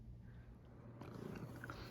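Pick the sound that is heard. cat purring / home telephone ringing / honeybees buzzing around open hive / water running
cat purring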